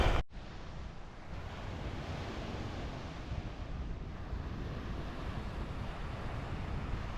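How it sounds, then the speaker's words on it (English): Waves wash onto the beach of Issyk Kul lake in a continuous, even surf. Wind buffets the microphone heavily and there is no talking. "The sound of the waves is super relaxing."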